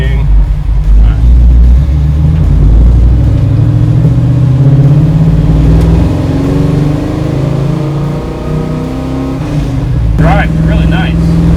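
A 1968 Chevrolet Camaro SS V8 revving while driving, a loud deep engine drone that rises and swells steadily, with people talking over the rumble.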